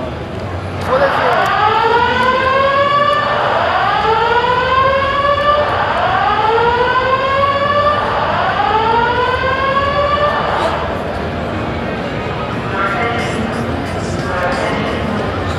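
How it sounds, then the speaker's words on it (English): A rising and falling electronic fire alarm siren wails in repeated sweeps, loud and close inside a convention hall at CES 2019, then fades into crowd noise with people talking. "Somebody just hit the fire alarm."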